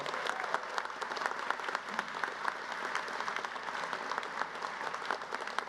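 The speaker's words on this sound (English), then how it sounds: "I'd like us to all give a giant round of applause to Bridget Kerwin, who made this all so seam" Sustained audience applause at an engineering master's hooding ceremony, a dense wash of many hands clapping steadily from start to finish with no speech over it.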